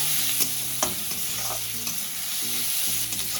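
Chopped onion and green chilli sizzle steadily in a pan while a utensil stirs them, with a few sharp scraping clicks over the constant close frying hiss.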